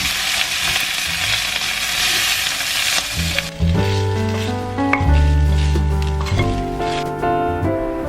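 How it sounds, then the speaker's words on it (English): Food sizzles and crackles steadily in a hot pan for a few seconds, then music with sustained tones comes in over the frying. "I'm going to try my best to heat it up on the stove"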